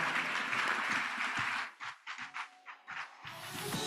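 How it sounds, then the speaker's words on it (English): Applause for a panel at an economics forum, clapping that is steady at first, then breaks into scattered, fading claps before a final swell. "Please give a big round of applause to our panel"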